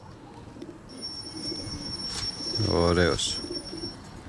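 Pigeons in a loft give a single near, throaty coo under faint background chatter, with someone briefly speaking just before it.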